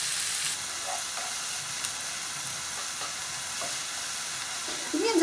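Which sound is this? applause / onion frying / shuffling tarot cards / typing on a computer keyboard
onion frying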